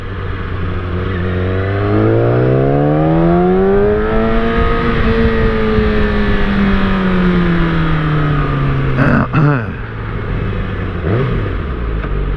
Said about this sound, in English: I see that there's a lot of traffic, a lot of traffic